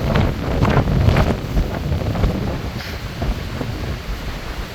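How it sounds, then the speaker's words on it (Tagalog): Strong wind buffets the microphone in a loud, continuous rumbling roar, with gusts rising and falling and faint water sounds beneath. "masyado mahangin"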